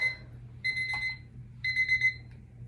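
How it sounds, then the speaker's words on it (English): A crafting timer's alarm goes off in two bright electronic beeping bursts, loud and close, over a low steady hum, with no voices. "we are in our last 10 seconds before the timer goes off"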